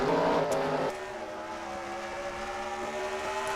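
Formula 1 cars from a racing video game launching off the grid at Shanghai, a loud engine roar that shifts to steady rising high-pitched revving of several cars as they accelerate away.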